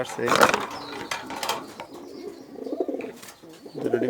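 A pair of Afshan Giribaz pigeons sitting on eggs coo in low, throaty rolling phrases, close and repeated across the whole stretch, with other faint bird calls around.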